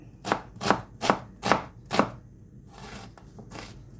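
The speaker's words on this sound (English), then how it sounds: "I'll just quickly chop this second one." A knife chops an onion on a board in five sharp, evenly spaced strokes, close and distinct, followed by softer scraping and lighter cuts.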